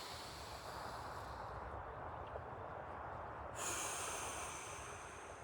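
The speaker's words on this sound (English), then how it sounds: "I'm gonna need you to just take a deep breath." One person takes a slow, deep breath, a quiet, airy inhale that ends in a sharper, louder rush of air near the end, heard alone and close.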